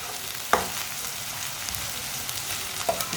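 Onion and okra stirred together in a frying pan, giving a continuous close sizzle with a couple of brief spoon knocks against the metal, no talking.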